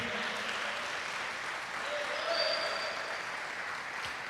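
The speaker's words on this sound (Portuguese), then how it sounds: "Você pode aplaudir bem forte" A church congregation applauds in a steady, moderately distant wash of clapping with a few scattered shouts, continuing evenly throughout.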